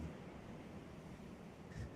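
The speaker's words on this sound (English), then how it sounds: "The waves crashing against the sands and the rocks." Waves wash against sand and rocks on a beach at sunset, making a soft, continuous rushing surf. It is faint and steady, with a gentle swell toward the end.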